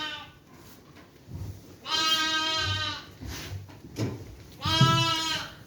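An ailing sheep bleats during lambing season on a farm: two loud, drawn-out, wavering calls with a quieter bleat and soft background shuffling between them.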